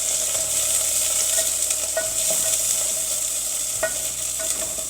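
Onions frying in hot oil in a pot, a continuous bright sizzle with a few scraping knocks of a spoon as they are stirred, close and with no talk.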